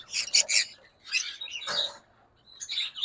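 A green pale fallow lovebird gives quick, high, raspy chirps in short bursts separated by brief pauses, close and fairly faint.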